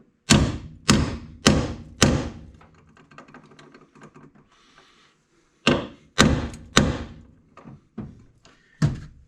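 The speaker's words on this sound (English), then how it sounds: "So that might be because I smacked it with a hammer." A hammer strikes a socket on a rusted bolt while working on a Honda: four loud, sharp metallic blows in quick rhythm, a pause with faint clatter, then five more hits, close and ringing.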